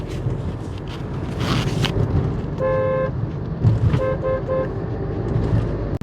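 Busy road traffic near the Palar River bridge in Vellore, India, a loud constant roar of engines with several car horn toots, one long blast then a quick series of short honks, close by.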